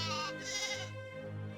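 A sheep in the farming game My Time at Portia gives a couple of clear, drawn-out bleats, close and alone with no talk over them.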